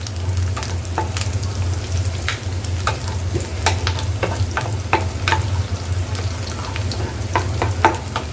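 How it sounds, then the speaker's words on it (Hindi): Garlic and green chilli sautéing in ghee in a pan, a steady close frying sizzle with scattered crackles and pops throughout, no voices. "सॉटे कर लेंगे ताकि गार्लिक का अच्छा सा फ्लेवर आ जाए"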